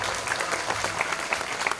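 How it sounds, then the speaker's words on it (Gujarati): Dense audience applause at a Gujarati Bhavai folk performance during a Khodiyar Mata festival, a steady wash of many hands clapping with a few sharper claps standing out, continuous and fairly loud for the whole moment. "સાહેબ એને જોરદાર તાળીઓના નાદ સાથે વધાવો"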